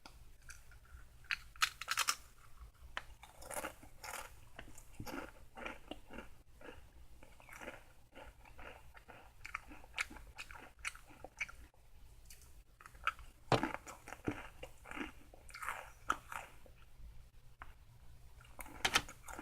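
Crunchy Korean snack chips, a sweet and mildly spicy kind, bitten and chewed up close: repeated brittle crunches and crackling chews in an irregular rhythm, fairly quiet, without talk.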